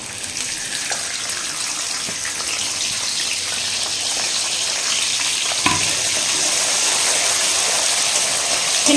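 Small shallots sizzle steadily in a hot pan for country chicken biryani, giving a constant bright hiss with faint crackles throughout.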